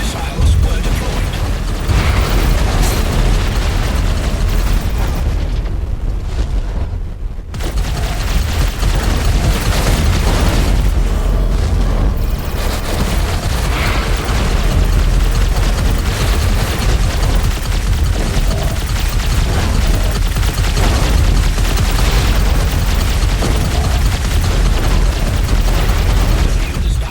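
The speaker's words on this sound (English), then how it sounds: "Missiles were deployed." Missile explosions in the space combat game Everspace 2 boom and burst almost without a break over a dense, loud battle mix with mechanical clatter, easing off briefly midway before the barrage resumes.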